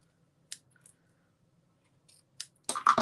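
Scissors trimming a large hair bow, a few sharp snips spaced apart in otherwise near silence, then a quicker burst of close cuts at the end.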